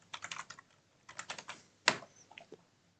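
A computer keyboard clicks in three quick bursts of keystrokes as a password is entered, close and fairly quiet, with one sharper key tap near the end.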